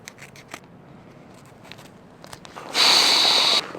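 A few small rustles and clicks come first, then a loud, sustained rasp of Miracle gear tape being cut or torn to patch punctured camping gear outdoors, close up.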